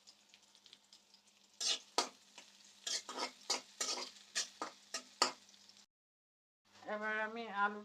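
Onions frying in a pan with oil and being stirred, giving a steady close sizzle broken by repeated louder scraping strokes of the spoon. Near the end the sizzle gives way to a voice speaking.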